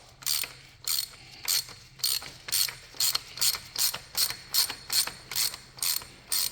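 A wrench ratchets steadily while unscrewing the oil filter cap on a Ford Bronco's 2.7L engine, giving about a dozen evenly spaced crisp clicking bursts, close and clear with no talking.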